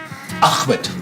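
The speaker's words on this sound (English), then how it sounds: "stop coughing" A man's short coughs and throat clearing, two or three rough bursts close to the microphone, with a brief spoken word mixed in.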